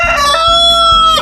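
A rooster crows in a small rooster house inside an organic homestead greenhouse, giving one loud, close, drawn-out cock-a-doodle-doo with no talk over it.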